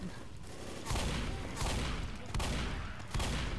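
Rapid bursts of gunfire from the zombie shooter Left 4 Dead come in repeated volleys about every three quarters of a second, fairly quiet and set in a busy game soundscape.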